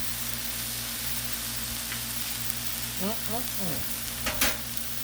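Pork chops sizzle steadily on a Blackstone griddle, a constant close hiss, with a brief scrape and a short voice sound near the end.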